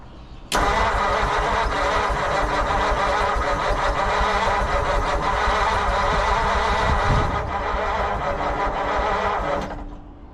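A 1940 Mercury Eight that has sat since the 1970s is cranked with throttle applied, its starter churning loudly and steadily for about nine seconds without the engine catching, then cutting off.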